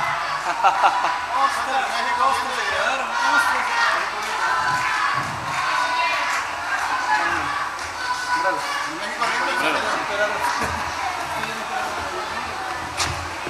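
Audience at a mariachi vermouth concert in Barcelona cheering, whistling and shouting together for an encore, a loud sustained crowd roar that rises and falls with scattered yells.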